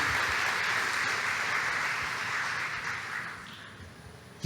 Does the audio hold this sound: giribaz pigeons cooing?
no